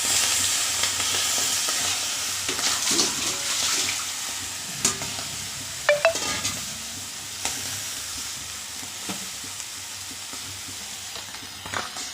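Brinjals for stuffed gutthi vankaya frying and being stirred in a little oil in a pan, a steady close sizzle with intermittent scraping stirs and small clatters, no voices.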